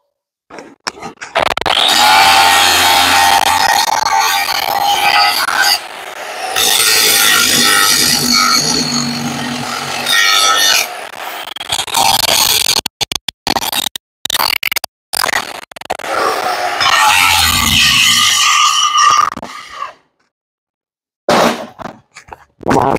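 An abrasive tool grinds down a weld bead on a rear leaf spring from a Ford Cargo 1721 truck. The grinding is loud and harsh, running in long sustained passes broken by short pauses and choppy stops near the end.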